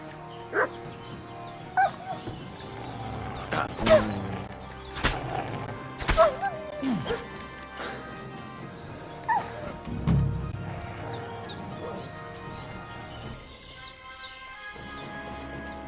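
In the video game Kingdom Come Deliverance 2, a dog lets out scattered barks, yips and whimpers amid sharp knocks and rustling game sounds, moderately quiet and irregular.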